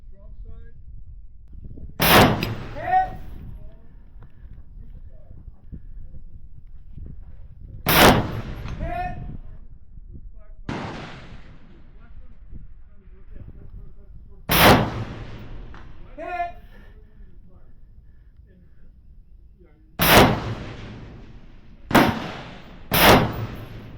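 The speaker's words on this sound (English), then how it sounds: "you shoot all the targets twice, once with your dominant hand and then once with your weak hand" Rifle gunshots on a shooting competition stage, six sharp loud cracks spaced several seconds apart, each with a rolling echo, while someone talks between them.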